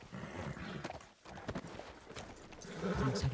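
Horse hooves clop along in Red Dead Redemption, a moderate rhythmic run of hoofbeats mixed with game ambience, fairly quiet and close.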